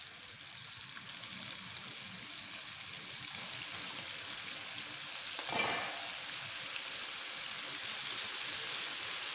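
Pieces of cuttlefish frying in boiling oil give a steady, dense sizzle that holds throughout, with a brief louder crackling flare around the middle and no talking.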